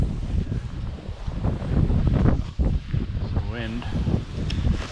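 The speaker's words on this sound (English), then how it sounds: "Wind." Wind buffeting the microphone beside a lake while bass fishing near Hattingspruit, Dundee, a loud steady low rumble with gusts throughout and someone speaking briefly over it.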